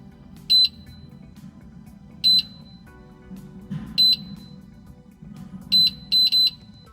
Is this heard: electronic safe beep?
yes